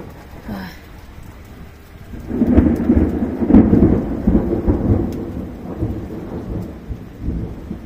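Steady rain patters throughout while deep thunder rumbles and rolls in after a couple of seconds, lingering in the background.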